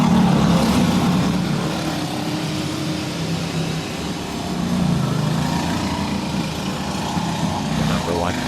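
Dirt go-karts racing in a 30-lap feature at Galletta's dirt track in Oswego, engines droning steadily together at moderate distance with a continuous buzzing rev, swelling slightly as a kart pulls away.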